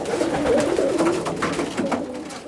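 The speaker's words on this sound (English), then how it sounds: "a few pigeons begin swooping down from trees towards us" Pigeons cooing close by as they gather to be fed scattered grain, soft throaty coos repeating over a brief stretch with light rustling.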